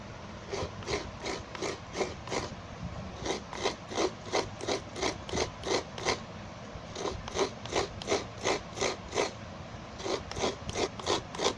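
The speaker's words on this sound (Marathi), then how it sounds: "हे असं खोबरं किसायचं, ओलं खोबरं" Fresh coconut is grated by hand in fast, rhythmic rasping strokes that come in bursts with short pauses between them, close and clear.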